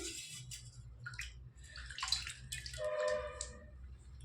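Water splashing and trickling as festival colours are washed off a person indoors, close uneven pours and drips with gurgling, faint and without talk.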